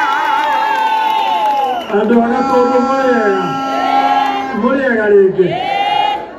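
Crowd at a political rally cheering and shouting loudly and continuously close by, whoops rising and falling, while an amplified voice speaks over the noise.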